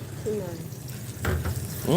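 Food sizzles and fries on a hot pan at a street eatery in Da Nang, Vietnam, a soft crackling hiss heard nearby with a brief voice near the end.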